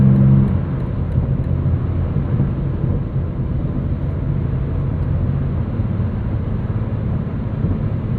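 A steady, low engine drone and road rumble from inside a 2023 BMW M4 CSL at highway speed, continuous and fairly loud with no talking.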